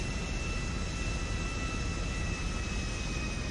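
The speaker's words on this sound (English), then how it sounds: "Wow, look at this jet." A jet aircraft flies in GTA 5, a steady, moderately quiet engine roar and rushing air with a thin high whine, continuous and unchanging.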